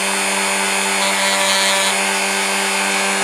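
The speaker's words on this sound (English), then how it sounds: "get a little grinder or a polisher, a Dremel here, and I can just polish" A Dremel rotary tool polishes a worn pickup from a Hornby Dublo model train, giving a steady, close, high-pitched whine that holds constant throughout with no pauses.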